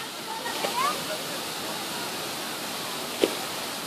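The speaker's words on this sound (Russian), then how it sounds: "Что это такое там шумит? Озера водопадами переливаются одно в другое." A waterfall pouring between lakes at Gan HaShlosha (Sakhne) park in Israel makes a steady, even roar throughout. A faint voice is heard briefly early on, along with a single soft splash near the end.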